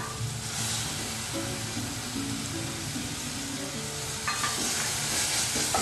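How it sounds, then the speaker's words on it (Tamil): Ginger garlic paste sautéing with softened onions in a pan, a steady close sizzle with repeated scraping stirs throughout, intensifying slightly near the end. "இதுவும் நல்லா பச்சை வாசனை போக வதக்கிக்கோங்க."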